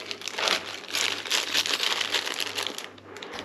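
A plastic bag crinkles and rustles continuously up close while a fishing reel is unpacked, dense papery crackling that stays fairly steady and eases slightly at the end.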